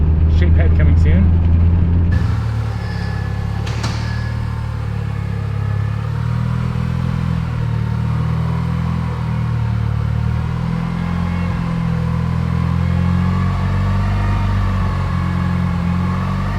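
Car engine idling and running on a cruise, a steady low rumble that holds nearly the whole time after a brief louder burst at the start, fairly quiet and even.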